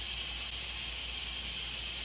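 An Instant Pot vents steam in a constant, loud hissing rush close by, unbroken throughout with no speech.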